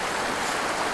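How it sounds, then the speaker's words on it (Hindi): Flowing stream water in an outdoor riverside setting, a continuous broadband rushing and babbling wash, steady and fairly loud with no other sounds standing out. "बहता हुआ पानी"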